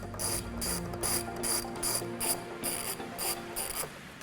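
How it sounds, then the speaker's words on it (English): Ratchet wrench with a T30 Torx bit socket loosening the cowl panel bolts on a 2018 Jeep Wrangler JL, giving rapid, repeated clicking bursts of the pawl in close, steady rhythm with no talk. "remove the two bolts that hold on this cowl panel right here. You're going to use a T30 Torx bit socket"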